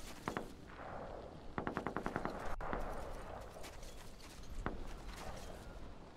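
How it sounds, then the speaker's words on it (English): Bursts of rapid gunfire crackle in short volleys, with a few single shots spaced between, set against a low ambient soundscape in the video game Metro Exodus. "We have gunshots."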